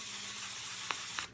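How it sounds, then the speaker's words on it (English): Sandpaper rubbed across a surface by hand gives a steady, close abrasive hiss that runs unbroken for over a second. Two brief scratchy accents break through it before the sound cuts off abruptly. "Basically just rub it on there and let the sandpaper do its job."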